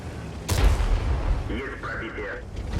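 A single deep, booming tank cannon blast in a video game rings out over steady engine rumble, followed by a brief muffled voice.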